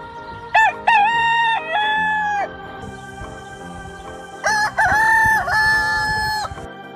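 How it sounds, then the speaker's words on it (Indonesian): A rooster crows loudly and close, two long cock-a-doodle-doo calls with rising, stuttering starts, separated by a brief pause, with faint ambient noise and some fowl clucking underneath. "Ya, itu suara ayam."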